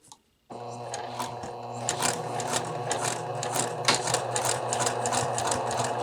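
A sewing machine stitches fabric welts for a double welt pocket, running steadily and close after a brief pause, its rapid needle rhythm continuous throughout.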